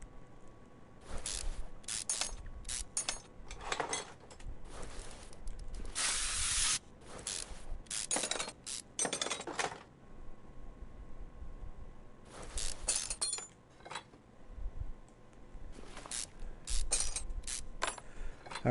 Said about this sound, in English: we still have to get this crankshaft off, so off we go with the rocker arms